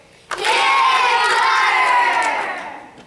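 A live audience at a children's fable stage show bursts into loud cheering, with children shouting and whooping. The roar rises suddenly, holds steady for about two seconds, then begins to fade.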